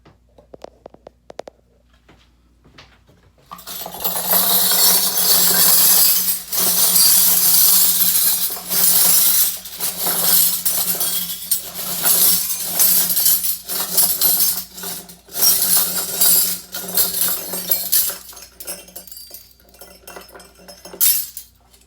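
Metal wind chime parts, cut ends of spoons and forks, poured from a tumbler barrel. A loud, dense metallic clinking and jangling rattles on for many seconds after a quiet start, with bursts rising and falling as pieces tumble out.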